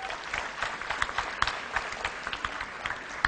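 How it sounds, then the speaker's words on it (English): An audience at an enterprise and risk-management session claps for two student speakers, a dense round of applause with individual sharp claps standing out, moderately loud and sustained, without talk. "Let's welcome both the student speakers with a big round of applause."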